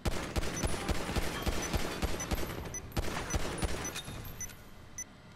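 Sharp gunshots crack in quick succession at a shooting range in Grand Theft Auto 5, evenly spaced loud reports that thin out toward the end, no voices present.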